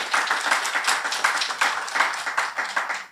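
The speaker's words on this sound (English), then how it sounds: "Let's give her a round of applause." Podcast event audience clapping for a moderator, a close, lively round of hands with audible individual claps in a quick irregular rhythm, fairly loud and uninterrupted.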